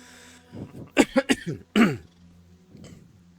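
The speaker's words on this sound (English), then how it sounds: "Excuse me for coughing into the mic all the time" A short fit of several harsh coughs close to the microphone, followed by one more cough and quiet breathing.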